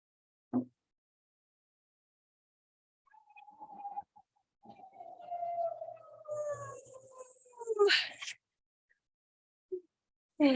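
Alone in quiet surroundings during a full moon ritual, a person's voice imitates a wolf with a long wavering howl that slides downward, framed by short isolated sounds before and after.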